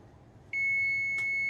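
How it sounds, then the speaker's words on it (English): A kitchen timer beeps while cast iron is seasoned in an oven, a sharp steady high-pitched tone that starts suddenly and holds, with a brief extra blip partway through, over low background hum. "Okay, my timer's going off."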